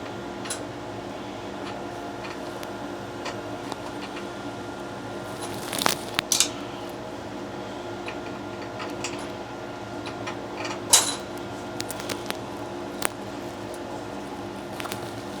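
A hole punch working through way cover material for a Tormach 1100MX mill gives a few sharp clicks and crunches, clustered near the middle and toward the end, over a faint steady background hum with no talking.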